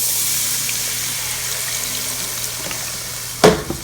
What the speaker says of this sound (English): Next, we're gonna go ahead and add some beef broth.